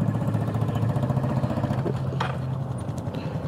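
A loud, raspy Honda Super Cub scooter engine idles steadily up close, its exhaust missing the baffle tip, the note rough and popping with a throbbing low rumble throughout.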